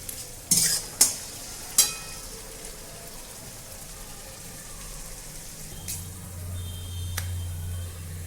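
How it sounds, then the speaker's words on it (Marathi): Green chilies fry in oil in a pan for a peanut chutney, stirred with a utensil: a few sharp scrapes and clinks early, then a steady, faint sizzle with no voices. "इथं तुम्ही पाहू शकता मिरची चांगली मी तेलात परतून घेतली"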